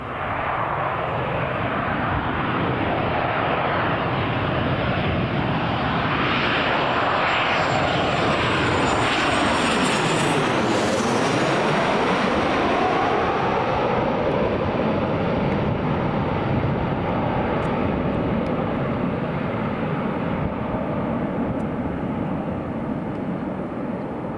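A passenger airliner on flight LS1934 from Porto, Portugal, passes close with a loud, sustained engine roar that rises and sweeps through a Doppler shift near the middle, then slowly recedes over the rest of the stretch.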